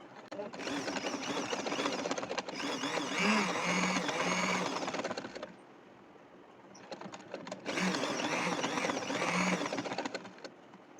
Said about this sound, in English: So just go ahead and keep stitching about 1/2 inch.